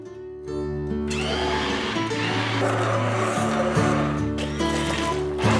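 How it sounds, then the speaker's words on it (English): A steady electric motor of an immersion blender whirs at high speed mixing lye water into soap, a continuous buzzing hum with a slight shift in pitch partway through, close and fairly loud. "I'm going to use an immersion blender to get this to come to trace"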